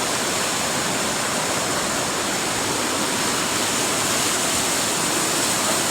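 A waterfall on Devil's Trap River along the Superior Hiking Trail, a loud, dense, continuous roar of falling water heard up close with no other sounds.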